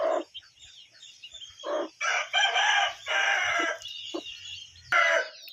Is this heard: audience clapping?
no